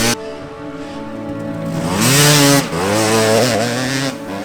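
The engine of a Sutter 300 trail-building machine runs close and loud, holding a steady drone that rises in pitch as the throttle opens, then dips and revs again.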